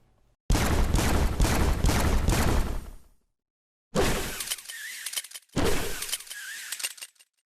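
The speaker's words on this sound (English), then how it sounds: "Guns aren't usually all that notable in VR games, but I will say I especially love how these guns look and sound." Rapid bursts of gunfire from guns in a Spider-Man VR video game, a long loud volley followed by two shorter sharp bursts separated by brief silences.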